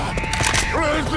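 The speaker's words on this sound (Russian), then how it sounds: "Перезаряжаю." A weapon being reloaded in Left 4 Dead 2: a short burst of clicking, creaking mechanical clatter lasting about a second, close and fairly loud, with faint game sounds around it.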